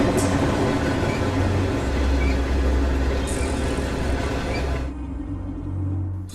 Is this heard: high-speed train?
yes